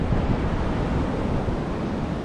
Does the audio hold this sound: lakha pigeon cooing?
no